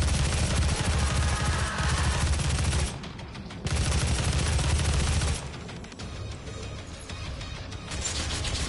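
Dense, continuous heavy assault rifle fire from DOOM, loud and close, with brief lulls between sustained bursts of rapid shots.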